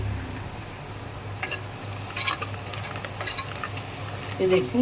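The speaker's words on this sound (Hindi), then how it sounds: "और यहाँ पे फिर मैं डाल दूँगी जो प्याज रखी है। अच्छा, यहाँ पे देखें, प्याज हमारी ब्राउन हो रही है" Onions brown in well-heated oil for Mumbai dal gosht, a busy close sizzle with frequent spoon-stirring scrapes and clinks; a voice speaks briefly near the end.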